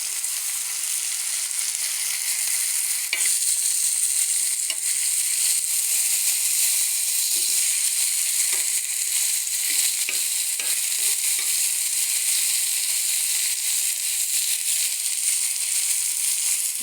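Grill chicken frying in a pan, a steady loud sizzle and hiss that runs throughout with occasional scrapes and pops from stirring, close and continuous with no voices.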